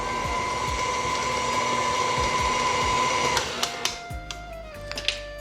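Steady electric mixer whirring on setting 4 through sugar cookie dough, a constant motor hum with a pitch shift partway through, then a few clicks and knocks as it winds down.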